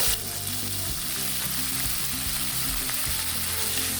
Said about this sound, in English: Spread it evenly around the pan. This will not take long to cook.